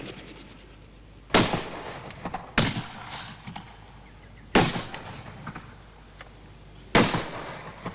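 Four loud, sharp gunshots ring out at irregular intervals, each with a brief echoing tail, over quiet background rustle and no talk.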